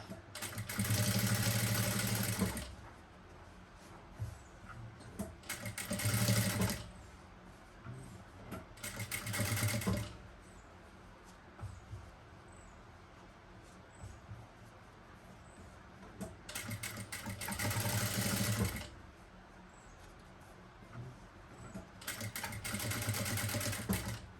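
Sewing machine stitching along a blouse neckline, running in several loud bursts of whirring stitching separated by quiet pauses, up close with no talking.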